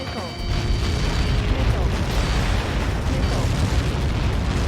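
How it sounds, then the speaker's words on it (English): A huge missile blast in the combat flight game Ace Combat 7 booms loudly and rolls on as a sustained roar of rumble and debris for several seconds, with no speech over it. "How many got caught in that explosion?"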